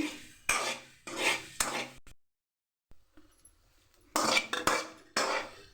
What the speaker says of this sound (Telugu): ఇప్పుడు గుడ్లు కొట్టేసుకోవాలి.